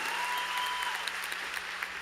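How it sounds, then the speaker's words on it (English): A graduation audience at a 2022 Stony Point ceremony claps in a dense, steady round of applause, continuous and fairly close, with a brief tone heard early on. "Please give them a round of applause."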